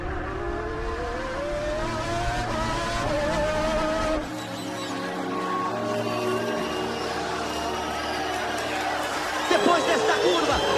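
Ayrton Senna's McLaren Formula 1 car racing at the Brazilian Grand Prix with the gearbox stuck in sixth, a loud sustained high engine scream with shifting pitch, crowd noise, and a commentator talking over it.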